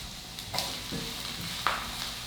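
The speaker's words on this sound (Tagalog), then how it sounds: "At una nating igigisa itong bawang. Pagkalagay ng bawang, hahaluin ko lang." Chopped garlic sautés in a pan, with a steady close sizzle under occasional scraping and clinking as it is stirred.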